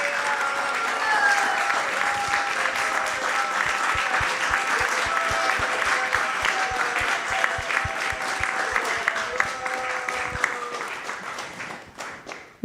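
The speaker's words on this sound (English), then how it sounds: "please give him a big round of applause" A crowd at a devotional gathering gives loud, sustained applause that swells early and holds steady with a rhythmic clapping pulse, then tapers off near the end, with a few voices faintly audible beneath.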